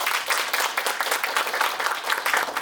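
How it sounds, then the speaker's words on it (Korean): Sustained applause from a lecture audience, many hands clapping in a dense, even wash of sound with no speech over it. "큰 박수 부탁드립니다"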